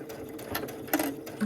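A sewing machine stitching a quarter-inch seam on a fabric cosmetic bag, running in short, steady mechanical bursts with light clicks, close and clear with no talking.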